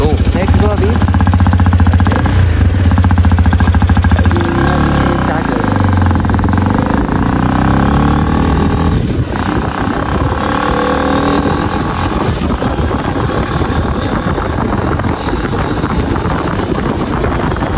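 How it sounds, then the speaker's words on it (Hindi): A Hero Xpulse 210 motorcycle engine drones steadily while riding, with loud continuous rumble and wind buffeting and a voice speaking over it throughout. "एकदम स्मूथ चल रही है गाड़ी. एकदम रिफाइंड इंजन है."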